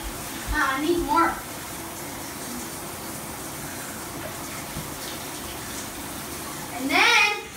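Steady rush of water from a tap fills the background, with a voice briefly chiming in near the start and again at the end.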